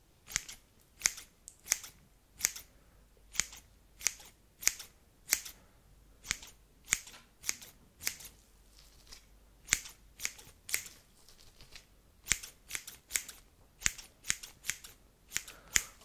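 Scissors snip through hair in an ASMR haircut roleplay, working on the top of the head. Crisp, close metallic snips come in quick repeated bursts with short pauses between them, heard alone with no talking.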